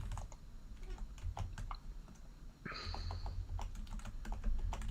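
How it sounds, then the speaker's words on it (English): Rapid, irregular clicks of typing on a computer keyboard sound close by over a low background hum, with a brief tonal blip partway through. "typing a lot, so that's why I'm trying to mute"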